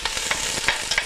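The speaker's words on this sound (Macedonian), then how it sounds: "Ќе го испржиме убаво кромидот да се зацрвени" A large chopped onion fries in a few spoonfuls of hot oil in a heated pot for a spinach casserole, giving a close, steady sizzle broken by several light scraping stirs.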